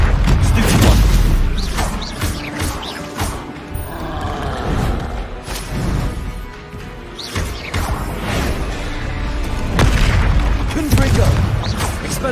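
Fiery blasting-spell explosions from a wizarding action game fill the scene with loud, repeated booms and crashing bursts, overlapping one another almost continuously.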